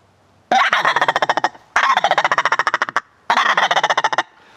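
Three bursts of rapid, rattling turkey gobbles from a Brothers in Arms howler game call, each a quick run of sharp pulses with short pauses between, loud and close.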